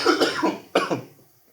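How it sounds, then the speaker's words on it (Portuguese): Two rough coughs, one after another, close to the microphone, the second sharp and trailing off into quiet. "Perdão pela tosse."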